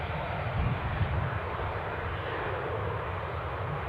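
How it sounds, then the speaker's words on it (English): A broad steady roar of jet engines from airliners at Newcastle airport, with a Jet2 aircraft in pushback, distant and continuous with no distinct events. "Looks like a Jet2 pushback."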